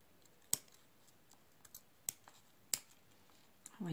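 Scissors cutting ribbon for a handmade Christmas card, a few sharp close snips spaced irregularly over a quiet background, ending in a brief rustle of handling.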